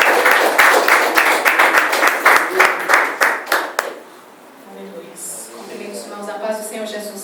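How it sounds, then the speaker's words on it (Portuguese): A church congregation claps for Jesus in a fast, loud, rhythmic burst lasting about four seconds, then breaks off as a voice starts speaking. "as palmas do Senhor Jesus"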